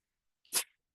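A single short sneeze comes from one person, faint and slightly distant, as a quick burst in an otherwise silent moment.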